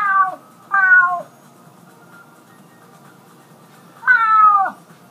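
Gary the snail from the SpongeBob Battle for Bikini Bottom video game meows three times, each a clear, loud, stretched meow with pauses between, over a quiet game background.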